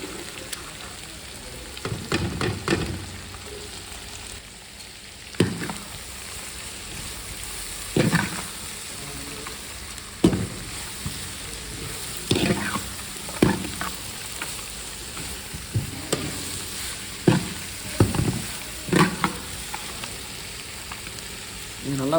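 Vegetables with carrots and beans sautéing in a pan, a low steady sizzle punctuated by frequent sharp spoon scrapes and knocks against the pan at an irregular rhythm.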